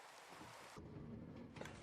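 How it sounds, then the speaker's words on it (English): Rainfall in the Minecraft video game, a steady, faint hiss of falling rain that shifts partway through the brief stretch. "make this rain go away with a little bit of sleep"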